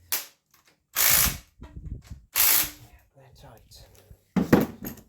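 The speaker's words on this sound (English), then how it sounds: "Dagger those little bolts up with the 3/8 impact gun." A 3/8 impact gun snugs small bolts on an engine sump of a Land Rover 300 Tdi Discovery, firing three short, sharp rattling bursts up close, with clunky workshop handling sounds in between.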